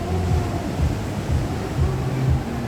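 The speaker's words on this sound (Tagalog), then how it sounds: "May kalakasan ng alon." Strong sea waves breaking on a shore during a typhoon, a steady rolling wash of surf with repeated swells building and falling, mixed with wind noise.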